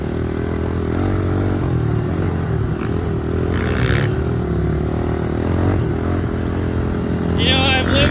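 A 110cc pit bike rides off-road, its small engine buzzing loudly and steadily up close with occasional scrapes and clatter, while a voice talks over it.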